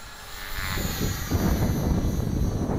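Tarot ZYX-S flybarless LH-450 RC helicopter flying into a strong wind, its rotor and motor whine swelling louder and rougher over a few seconds amid gusty wind noise.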